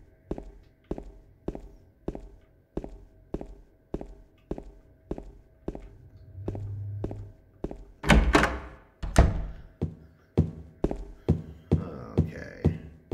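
A door with a broken lock rattled in Silent Hill 2, a steady series of regular hollow thunks repeating about twice a second, then a few harder, louder knocks and scrapes near the end.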